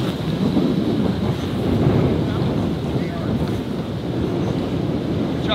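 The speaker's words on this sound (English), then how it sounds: "Dude, this wind." Strong crosswind sweeps across an open golf course, buffeting the microphone with a steady low roar that rises and falls slightly throughout, with no clear voices.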